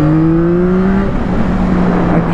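A 2021 Yamaha MT-09 SP motorcycle engine runs while riding, giving a loud, steady drone with harmonic tones that fall and shift partway through, with no talking.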